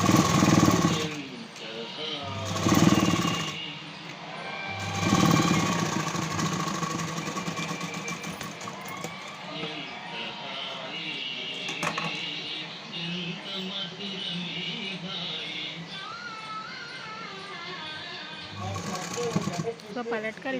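Sewing machine stitching the second side of a boat-neck Prince-cut garment front, size 44, a steady mechanical run with brief pauses near the start, under a voice talking throughout.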